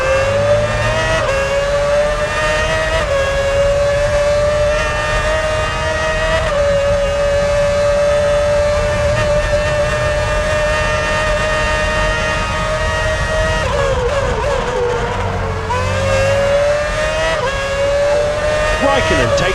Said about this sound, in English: Raikkonen takes to the pit lane.